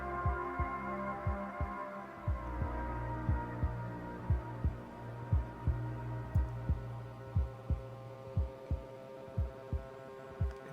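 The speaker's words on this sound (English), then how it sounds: "That heartbeat." Heartbeat in an electronic track, a slow, steady throb of soft low beats repeating about every half second over a sustained droning hum.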